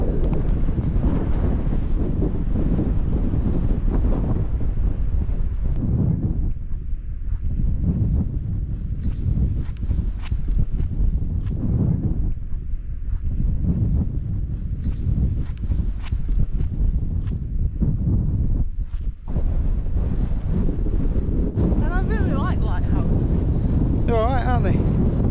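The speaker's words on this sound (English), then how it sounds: "It's a little bit breezy." Strong wind buffets the microphone on a cliff edge above the sea, a loud, constant roar with gusting swells throughout, and a voice faintly audible near the end.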